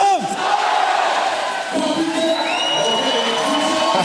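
A large crowd at a FIBA 3x3 Basketball World Cup 2022 session in Belgium shouts and chants loudly in unison in response to an announcer's call, a dense roar of massed voices that fills the whole stretch.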